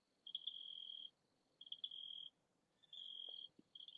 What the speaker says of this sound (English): cicadas. They're not really that busy this morning